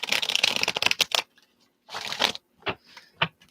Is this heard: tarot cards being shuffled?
yes